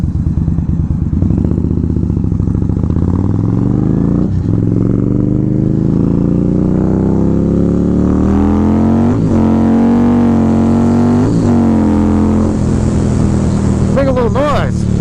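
Indian Scout Bobber motorcycle being ridden, a loud, steady engine drone and wind rush with rising and falling revs as it changes speed, heard from the rider's position; a voice talks over it.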